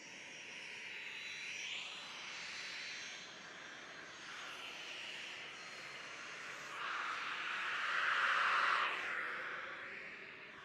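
Jet engine of an Iskra trainer aircraft at the Reno airshow, a steady broadband roar that swells louder toward the end as the aircraft passes close by, heard alone with no talk.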